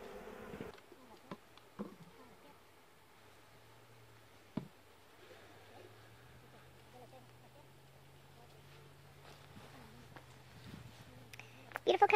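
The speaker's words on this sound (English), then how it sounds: "when they're buzzing that close to your ear, it's a little intimidating" Bees buzzing at beehives in Mexico, a steady droning hum passing close by over faint background noise.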